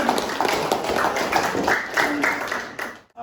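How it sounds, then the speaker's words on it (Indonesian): A classroom group claps for presenter Sri Handayani after her talk on forwarding data packets between networks, a steady dense patter of many hands lasting about three seconds before stopping abruptly. "tepuk tangan dulu untuk Sri Handayani"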